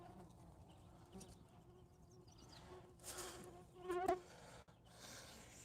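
Flies and other insects buzz around an outdoor homestead, a faint, steady hum with a louder buzz passing close by near the end, under a quiet background.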